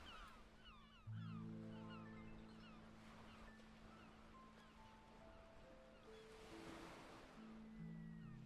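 Ocean waves washing in steadily as a soft, continuous surf wash, faint and distant, with a swelling rush near the end and tonal music layered over it.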